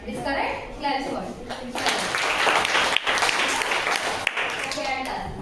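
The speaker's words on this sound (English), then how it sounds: "Claps for it." Applause from a class of primary-school science students, a dense, steady patter of many hands clapping nearby for about five seconds, with a few voices mixed in.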